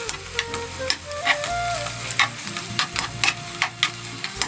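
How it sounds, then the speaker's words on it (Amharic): Garlic fries in oil left over from frying potatoes, a continuous crackling sizzle with regular scraping stirs from a utensil in the pan, close and moderately loud. "ድንቹን በጠበስንበት ዘይት በዚሁ እናቆላላለን ማለት ነው። ነጭ ሽንኩርት ጨምረን አብረን እናቆላላዋለን።"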